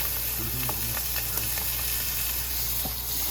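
Meat searing in a hot pan before going into a crock pot roast, heard as a close, steady sizzle and hiss with a few soft stirring and scraping touches.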